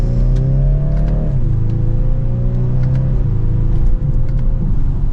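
A 2023 BMW 430i convertible pulls hard from second gear, its engine note rising steadily through the rev range with a brief dip at a shift, a close, continuous in-cabin drone with no talking.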